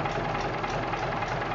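An old Gardner diesel engine runs steadily on a rickety stand, a loud, close, continuous low chugging idle with an even rhythm and no pauses.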